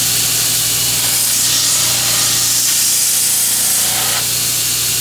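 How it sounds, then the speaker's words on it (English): A 3-inch air-filled pneumatic sanding drum with an 80 grit sleeve sands wood for a guitar build, giving a loud, steady whirring hiss that runs unbroken throughout with no talking. "What I have here is a 3-inch pneumatic. This is filled up with air, so it has a little give to it, and that's an 80 grit sanding sleeve on there."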